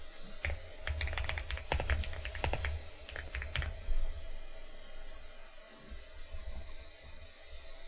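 Quick bursts of computer keyboard typing, close and clear, a flurry of rapid keystrokes in the first few seconds that thins to a few isolated taps, then a soft steady room hum.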